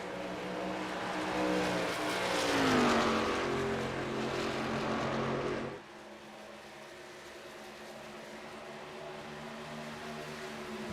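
Racing trucks roar around the track during a night Truck Series race, engine noise swelling loud with rising pitch as they pass, then dropping abruptly to a steadier, quieter drone of distant engines.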